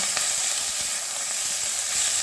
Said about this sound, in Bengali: এবার এর মধ্যে পেঁয়াজটা ঢেলে দেবো